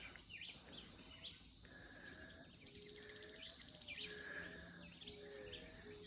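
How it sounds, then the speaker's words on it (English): Birds chirp and call steadily among banana plants on a farm, many short tweets and whistles overlapping at moderate distance over a constant hum of insects and natural ambience, with no talking. "Do you hear the birds?"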